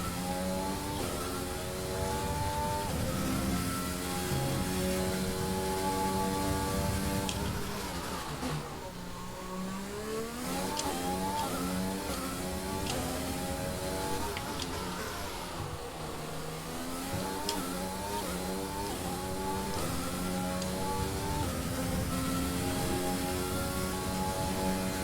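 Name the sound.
F1 car engine at high speed, from video game F1 2020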